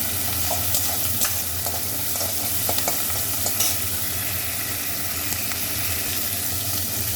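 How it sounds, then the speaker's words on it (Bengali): Small shrimp fry in a pan for chingri macher bata, a steady close sizzle with some stirring and scraping throughout and no talk. "মাছগুলো আমার ভাজা হয়ে গেছে, এবার তুলে নেব।"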